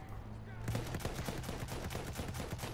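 Automatic gunfire in Battlefield 1 multiplayer, a fast steady volley of shots rattling for a few seconds behind a low background hum.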